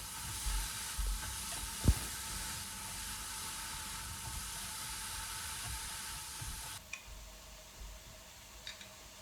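Eggplant sautéing with salt in a pan gives a steady, moderately loud sizzling hiss, broken by one sharp tap early on, then settles a little quieter toward the end with a few faint clinks.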